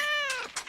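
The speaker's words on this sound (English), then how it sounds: "What's wrong with the cat, Maury?" Single cat meow from a Sherlock Holmes versus Jack the Ripper detective video game, a clear drawn-out call that fades, followed by a couple of soft clicks.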